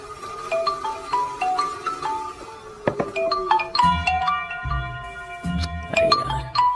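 Mobile phone ringing with an incoming call, a melodic electronic ringtone of repeated chiming tones that continues throughout, with a few soft thuds and clinks underneath.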